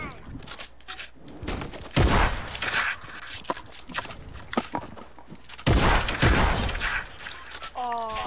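Gunfire in the video game Fortnite, bursts of loud shots with sharp cracks at two points, mixed with footsteps and mechanical clatter while players talk.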